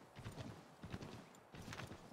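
Rhythmic clip-clop of horse hooves trotting in bursts in the video game Assassin's Creed III, quiet and close, with no speech.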